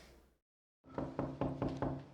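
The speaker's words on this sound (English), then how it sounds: "Who the hell could be knocking at this time?" After a brief moment of silence, someone knocks on a door five times in an even, steady rhythm, loud and close.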